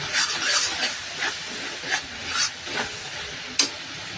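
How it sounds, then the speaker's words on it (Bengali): Tomato with garlic-ginger paste frying for kadai chicken gravy, a broad hissing sizzle rising and falling as the mixture is stirred, with scraping strokes at a slow, irregular rhythm. "ওটা দিয়ে একটু ভালো করে নাড়াচাড়া করে আমি টমেটোটা দিয়ে দিলাম। গ্রেভিটা নিয়ে এটাকে ভালো করে কষাতে হবে।"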